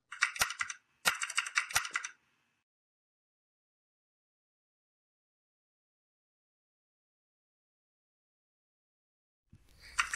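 Keys clatter in three quick bursts of typing during a virtual symposium, sharp and fairly loud, then a long silence before a short noise returns at the end.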